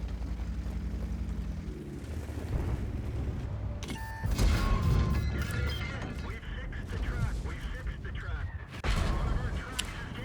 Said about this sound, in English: Artillery. I love it so much, man. It's just such a great feature of this game.